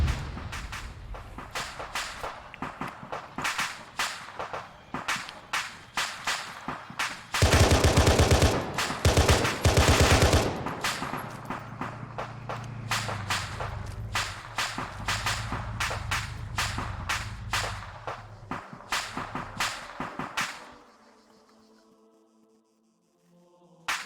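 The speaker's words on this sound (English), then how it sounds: "Some rocket cook-off." Rocket ammunition cooking off in the Arma 3 game, a long run of loud, rapid cracking blasts and pops, briefly swelling into a dense roaring burst, then tapering to a quieter rumble near the end.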